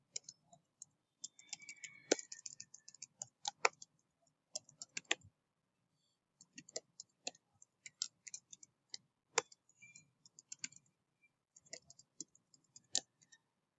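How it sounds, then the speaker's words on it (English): A password being typed on a computer keyboard, irregular quiet clicks of individual keys in short clusters with gaps between them, close-up in a quiet room, no speech. "I think I messed up with the password, so let me just type it in one more time."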